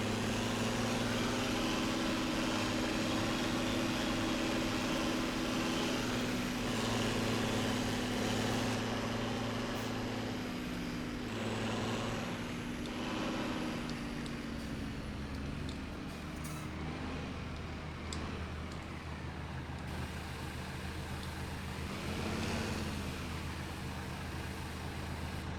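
A loud tractor engine in Farming Simulator 17 drones steadily at a low idle throughout, with its pitch and load shifting slightly midway, heard alone with no talking.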